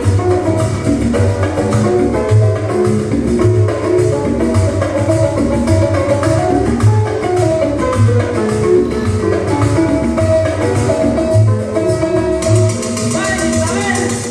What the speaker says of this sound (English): what you hear there is the timbalero going taka taka taka taka taka taka